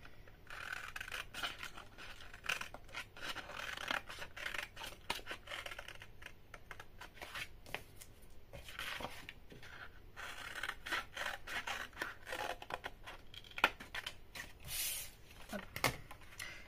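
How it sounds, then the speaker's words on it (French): Scissors cutting through folded paper or card and bevelling the fold while a craft box is made, a long run of close, quiet snips and scraping rubs in irregular bursts, without talking. "On coupe la pliure et on biseaute celle-ci."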